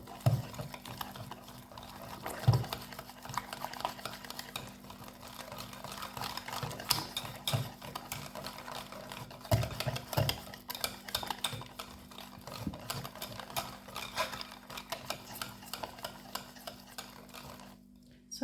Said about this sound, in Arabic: كنخلط هكا مزيان بفوي حتى ما كيبقاوناش هذيك الحبوبات ديال الدقيق